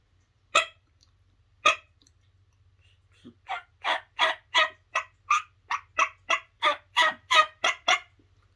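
Primos Hen House series turkey call imitating hen yelps: two isolated yelps, a pause, then a rapid rhythmic run of about a dozen sharp, loud yelps, close and clear against silence.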